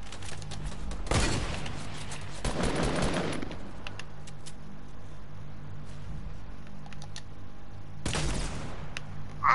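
Gunfire from a video game comes in three loud automatic bursts, one short and two longer, separated by quieter stretches of low background rumble.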